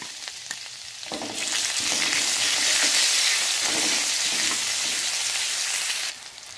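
Crushed onion dropped into hot oil for a mixed vegetable dal, bursting into a loud, close, hissing sizzle that holds steady for several seconds, then quickly drops away.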